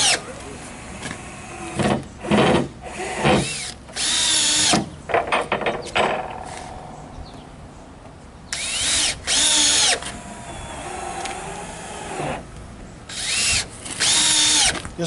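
Power drill drives screws into wall panels in short, loud whirring bursts separated by brief pauses, close by, repeating through the whole stretch.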